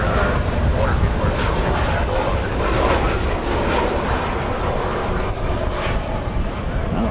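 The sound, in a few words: airplane at DFW Airport during plane spotting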